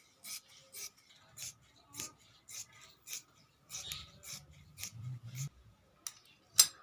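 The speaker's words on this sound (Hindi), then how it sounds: "तो हम सभी कलियों को काट लेंगे" Scissors snipping through lehenga fabric panels while tailoring, about a dozen crisp close cuts in a steady rhythm with soft fabric rustling between them.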